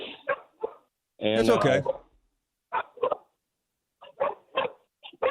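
Bulldogs bark in an excited burst in a radio studio, one loud, dense cluster of barking between stretches of close talk.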